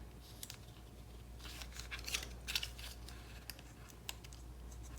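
Paper tape being snipped and handled to close a gatefold card's belly band, faint close clicks and small cuts scattered over a low steady hum.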